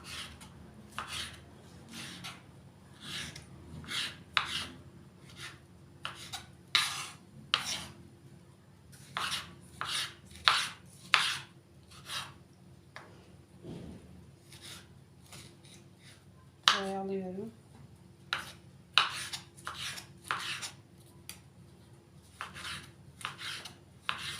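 A kitchen knife chops potatoes on a cutting board for an oven-baked chicken and vegetable dish, making a close, steady run of sharp cutting taps with a few short pauses and no talking.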